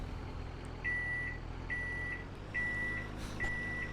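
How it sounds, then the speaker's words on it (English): A vehicle's reversing alarm in Winter Resort Simulator gives four evenly spaced, shrill beeps over a low, steady engine rumble. "That reverser is really loud. It's so funny. It's like, beep!"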